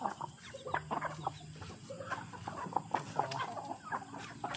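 Young hens cluck and chatter continuously on a farm, a busy overlapping flock heard fairly close but at modest loudness.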